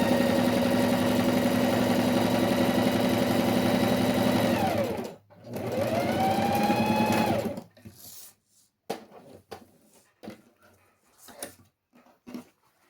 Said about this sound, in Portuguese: Você simplesmente muda a agulha para a esquerda e vamos à costura definitiva.